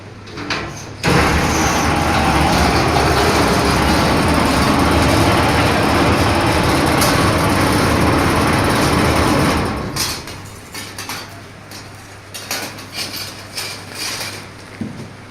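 An AC grille cutting machine runs during a test, with a loud, steady mechanical roar for several seconds before it winds down into intermittent clatter and rattling.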